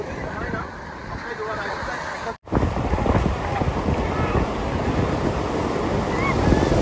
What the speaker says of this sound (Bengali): এদিকে অনেক বড় ঢেউ